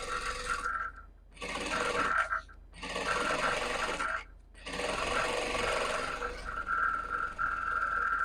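A sewing machine stitches a salwar in loud, steady runs of mechanical whirring, broken by several short pauses between bursts.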